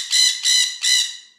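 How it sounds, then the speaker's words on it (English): A parrot lets out three harsh, bright squawks in quick succession, each loud and close, with the last call trailing off. "If a tiny parrot say."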